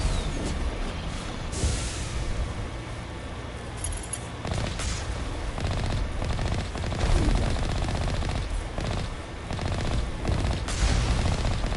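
Rapid automatic gunfire from enemies in the video game Mass Effect rattles in dense, continuous bursts, loud and close, with heavier bangs punctuating the volley throughout.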